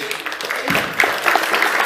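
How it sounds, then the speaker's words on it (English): A short burst of audience applause at a convention Q&A, a dense patter of many hands clapping at once. "Are y'all clapping because I'm old?"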